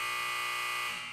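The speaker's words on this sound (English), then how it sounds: "with a buzzer, with a buzzer" A single loud, harsh electronic buzzer drones steadily for about a second before trailing off.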